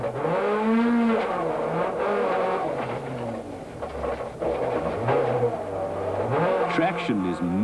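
Rally car sliding through a stage at the 1993 Sasol Rally, engine revving and shifting pitch as it accelerates and slides, heard under a voice talking.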